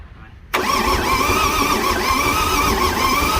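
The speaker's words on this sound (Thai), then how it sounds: "เครื่องมันหมุนนี่เลย" A Mitsubishi Fuso FN527 truck engine catches abruptly after a brief quiet start, then settles into a steady, loud diesel run with a constant mid-pitched drone and faint rhythmic pulsing.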